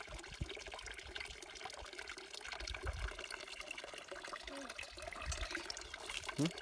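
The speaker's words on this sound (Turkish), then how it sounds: "İçe, ama dışarı dökeceğim suyu. içine dökmeyeceğim tamam mı?" Water being poured out onto the ground at an outdoor race area, heard as a faint, ongoing trickle and splash with background noise.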